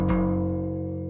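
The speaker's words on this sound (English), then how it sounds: "get this very attacky kind of plucked, almost bass part that had this kind of keyboard element to it" A plucked synth bass with a keyboard-like tone strikes one sharp-attack note that rings with steady harmonics and slowly decays, alone and clear.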